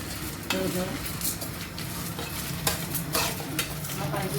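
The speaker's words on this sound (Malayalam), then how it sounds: "ഞങ്ങൾ എണ്ണയിലങ്ങ് ചൂടാക്കിയിട്ട് നന്നായി വറുത്തെടുക്കും" Lentils fry in hot oil in a pan for a Kerala dal chammanthy, a steady sizzle with a spoon stirring and scraping against the pan at irregular intervals, close and continuous.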